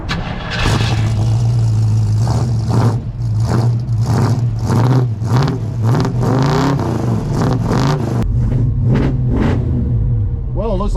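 A 1972 Ford Maverick engine cranks, catches and revs repeatedly, loud and close, with rising and falling bursts and a steady idle rumble underneath, while a voice speaks briefly over it.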